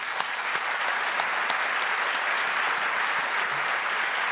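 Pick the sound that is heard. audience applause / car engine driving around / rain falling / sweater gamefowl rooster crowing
audience applause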